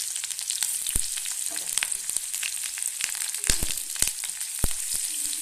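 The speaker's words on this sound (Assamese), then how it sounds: "এতিয়া দি দিলে কাটি লোৱা পিঁয়াজখিনি।" Chopped onions frying in a pan of hot oil with panch phoron for an eggplant and tomato dish, a steady close sizzle with occasional sharp pops and clinks of stirring, no voices.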